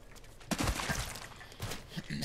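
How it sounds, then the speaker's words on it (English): Bursts of gunfire in the Apex Legends video game, a few sharp volleys and quick shots spread across a short stretch, fairly faint and partly under a talking voice. "Getting shot at."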